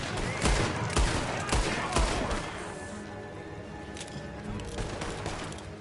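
Gunfire in Red Dead Redemption 2 breaks out as a loud shootout of rapid overlapping shots and bursts, densest at first and thinning to scattered cracks, with a voice shouting beneath the shooting.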